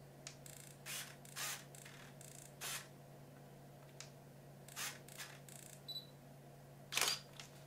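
A Kodak lens autofocusing on a Canon SLR camera gives short, faint mechanical whirs and clicks in a quiet room, ending with a sharper snap as the flash fires.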